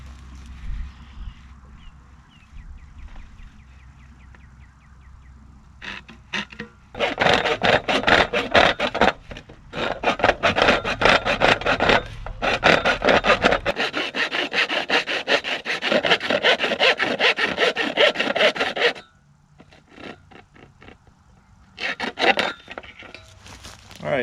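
A 6-inch drain tile connector is sawn in half with repeated rasping back-and-forth strokes, loud and close, running in long bursts with brief pauses and quieter handling noises before and after.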